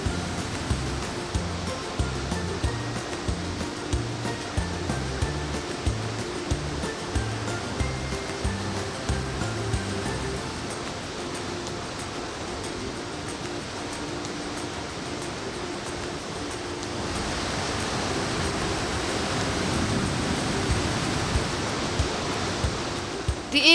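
Continuous roar of the waterfall at Nongkhnum, Meghalaya, a dense, steady rushing of water that swells slightly louder toward the end, with no voices.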